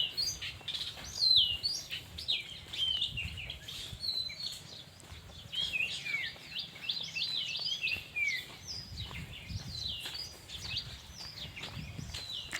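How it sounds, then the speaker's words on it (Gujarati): Birds calling in a mango orchard where crows, koels and peahens are common: a steady mix of chirps, tweets and short calls at moderate distance, continuous across the scene with soft rustling underneath and no talk. "કાગરા છે કોયલ છે ઢેલ છે તે બધું અહીંયા બહુ હોય છે"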